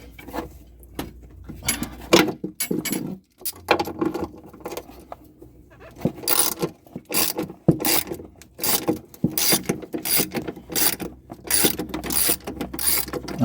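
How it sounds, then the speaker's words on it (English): Ratcheting wrench loosening bolts on the rear shock absorber of a Mazda 2, a run of rapid clicking bursts with short pauses, close and fairly loud, no talking. "Let's loosen up the other one now."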